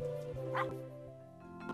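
A Transylvanian hound gives a few short, close barks and yips in quick succession, one higher whimpering cry standing out among them.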